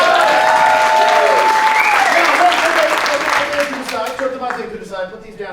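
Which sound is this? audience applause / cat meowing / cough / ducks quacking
audience applause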